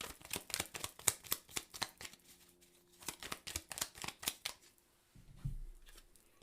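Tarot cards are shuffled in a quick series of crisp riffling bursts, close and fairly quiet, pausing briefly before the dealing resumes, ending with a soft low thump.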